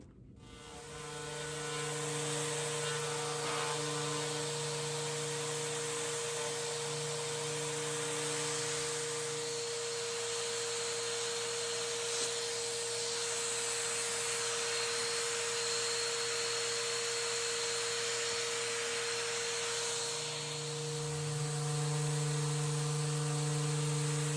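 A power sander with a 150 grit foam abrasive pad runs continuously on a wooden dresser with a steady whine and hum, close and fairly loud, its pitch shifting slightly as pressure changes.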